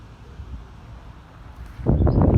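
Wind buffets the microphone outdoors during kite flying, a low rumbling gust that swells and grows louder toward the end, with no speech.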